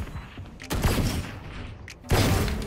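Gunfire in a tactical shooter video game, with two loud bursts of shots, one early and one near the end, over a steady game background.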